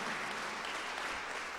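Brief burst of a church congregation's dense clapping offered during a service, steady and full throughout.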